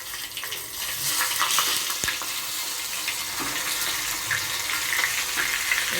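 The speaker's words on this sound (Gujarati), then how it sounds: "આપણે વઘાર માટે જો આ મરચાં આ રીતે નાખીએ." Green chilies hit hot oil for tempering, setting off a loud, steady crackling sizzle that continues close up without talking.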